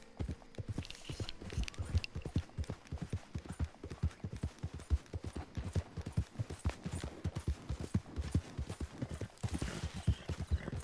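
Horse hooves clip-clop in Red Dead Redemption 2, a steady, rhythmic run of hoofbeats continuing at moderate volume throughout.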